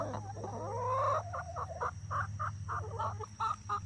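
Young pullet hens clucking up close, a rising call followed by a run of short, evenly spaced clucks over a low steady background hum.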